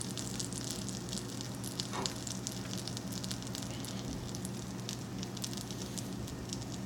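Bread and cheese for an all-American grilled cheese sizzle steadily in a hot pan, a dense, continuous crackle and hiss at close range with no voices.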